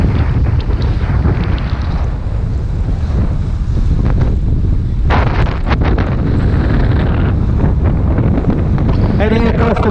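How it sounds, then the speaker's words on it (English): Strong wind roars across the Bay of Fort-de-France aboard the sailing yacht Hallberg-Rassy 54, loud buffeting gusts over sea and surf noise throughout, with a few short sharper bursts later on. "It always seems to be blowing like hell out of this place."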